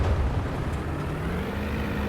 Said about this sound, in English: No, I hear an engine.